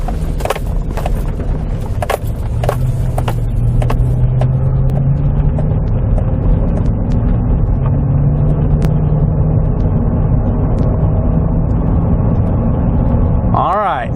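A car drives down the road with a dash cam recording from inside, giving a loud, steady engine and road rumble throughout, with scattered clicks near the start.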